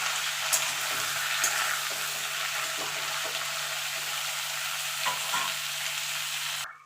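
Potato, papaya and green banana fry in a pan at a steady, even sizzle, with a low hum underneath and a few soft stirring knocks, close by and with no voices.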